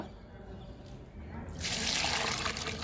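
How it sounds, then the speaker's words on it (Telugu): Liquid is poured onto a potted jasmine plant. A soft trickle becomes a fuller, louder splashing pour about halfway through, with no speech. "లిక్విడ్ ఇస్తున్నా. మల్లె మొక్కకి ఇస్తున్నా."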